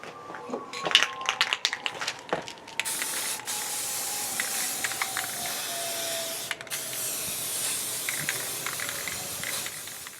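Primer sprayed onto the back of a wooden Hylian Shield cosplay prop: a few clicks and handling knocks, then a steady, close hiss of spray that runs for several seconds with short breaks.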